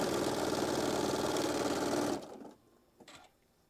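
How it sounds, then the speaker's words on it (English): A sewing machine stitches fabric in a steady, fast mechanical whir for about two seconds, then stops, leaving a couple of soft handling clicks. "I just bring this up to my machine and I just start stitching it down"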